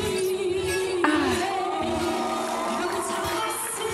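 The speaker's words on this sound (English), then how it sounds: "The crowd is really getting crazy right now." A concert crowd cheers and screams for a singer's live performance, steady roaring applause under a sustained sung note with music throughout.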